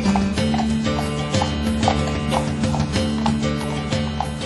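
A horse at a 2011 buckwheat groats festival in Trzebiatów clip-clops steadily along with a neigh, close and clear over a constant layer of festival music and background noise.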